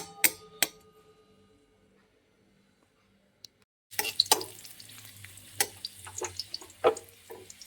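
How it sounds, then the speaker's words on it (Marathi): Raisins hit hot ghee in a kadhai partway through, bursting into a steady close sizzle with sharp stirring clicks and scrapes, following a quieter stretch of faint kitchen clatter. "आता कढईमध्ये दोन चमचे तूप टाकून घेतलेलं आहे आता मनुके तळून घेऊ"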